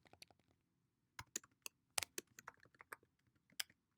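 Quiet, close keystrokes on a computer keyboard come in irregular bursts, sharp individual clicks clustered with short pauses between runs of typing, with no talking.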